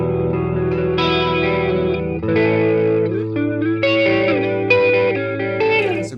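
Electric guitar through an analog multi-effects chorus pedal set for a phaser-like sweep, several sustained chords and picked notes swirling with slow modulation, loud and close, no voices.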